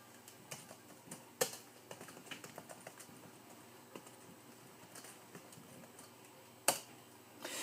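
Keys clatter on a laptop computer keyboard as commands are typed during a Windows 95 reinstall, a quiet irregular run of close clicks with a few sharper louder taps, no talking.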